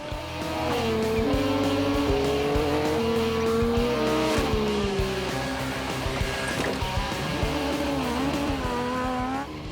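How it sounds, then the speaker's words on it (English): A 2006 Yamaha YZ125 two-stroke dirt bike is test ridden, its engine screaming and wavering in pitch as the throttle opens and closes, loud and continuous throughout with no talking. "I'm test riding this YZ125 because I'm going to give this old two-stroke the royal treatment"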